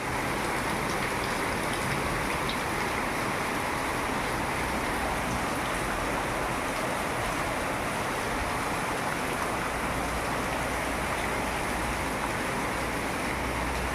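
Heavy, steady rain in Chennai pouring down continuously in a dense, hissing roar, with no voices.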